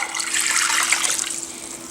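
Apple cider vinegar pours steadily into a basic barbecue sauce, a continuous liquid gush and splash for about two seconds, close and fairly loud with no talking.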